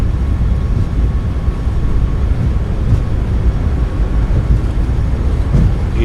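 Boeing 737 MAX 8 engines at takeoff power in a flight simulator, a loud, steady low roar and rumble that holds constant throughout, with no voices.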